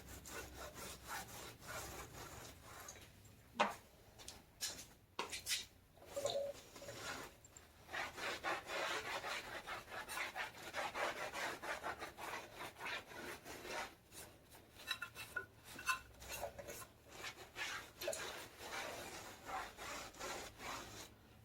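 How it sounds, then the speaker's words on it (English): A microfiber cloth loaded with ADG Wipeout rubs residue off a tire, producing steady scrubbing strokes throughout with a few louder bumps and pauses; no one speaks. "give it a good wipe down. Try to get some of that residue off of there."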